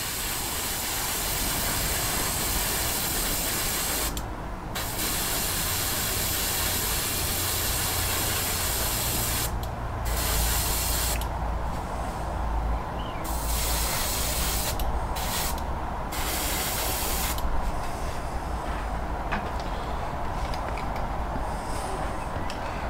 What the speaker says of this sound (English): this is another part of the cockpit as well, and that needs to be sprayed up